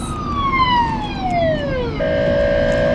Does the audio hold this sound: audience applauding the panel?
no